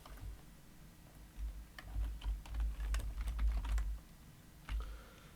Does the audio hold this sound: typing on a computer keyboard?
yes